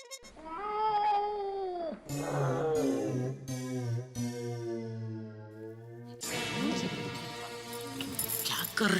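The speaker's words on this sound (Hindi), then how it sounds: "म्याऊं म्याऊं, ये क्या है सब?" Loud, drawn-out cat meows and yowling caterwauls follow one another at close range in an Indian TV comedy scene, ending in a burst of noisy commotion.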